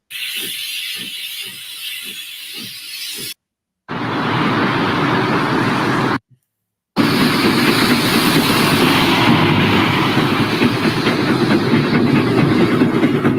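A loud train in a VR video game, a Y Class locomotive, rumbles and clatters past, rhythmic clacks at first, then a steady heavy roar after two brief silent cuts.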